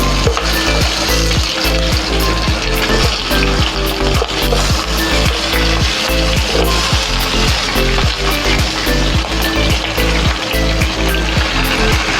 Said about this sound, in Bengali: এবার আমি মটনটাকে আগে কষিয়ে নেব